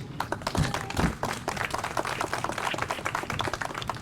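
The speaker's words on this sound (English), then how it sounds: "I just want to also give you guys a little round of applause for that as well" Scattered outdoor applause from an audience at a rose garden ceremony in Huntington Beach, loose irregular claps of moderate loudness running steadily with no talk over them.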